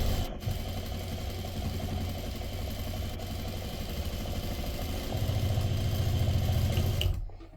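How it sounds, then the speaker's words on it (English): Sewing machine running steadily as it stitches quarter-inch seams down curved patchwork pieces, a close, rapid mechanical whirring that stops briefly at the start, picks up slightly near the end and then cuts off. "And now we're going to sew 1/4 inch down both sides of these curved pieces."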